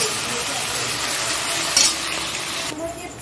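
Potatoes frying in a pan with salt and turmeric about to go in for a muri mix, a dense continuous sizzle with stirring scrapes, close and loud throughout.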